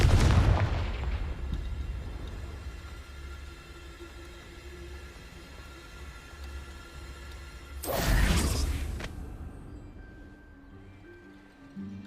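Confringo fire spells bursting in the Hogwarts Legacy game: a loud blast opens, a low rumbling bed follows, then a second sharp explosive burst hits near the eight-second mark before fading to a quiet hum.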